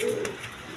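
A pair of orange chila Giribaz pigeons gives a brief, soft, low coo close by, with faint background noise.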